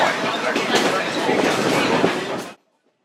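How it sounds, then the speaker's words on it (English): A Niles Canyon Railroad train rolls past with a steady rumbling clickety-clack of wheels over rail joints, loud and close, then cuts off abruptly into silence. "The clickety-clack of the wheels brought familiar excitement."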